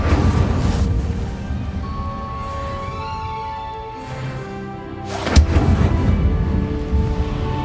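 Fire spell bursts in Hogwarts Legacy, heavy booming whooshes and rumbling thuds with a sharp, loud flare near the end, set against faint tonal game music.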